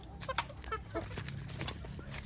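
Young native kampung chickens cluck in a series of short, quick, fairly faint calls, overlapping one another in a farm pen.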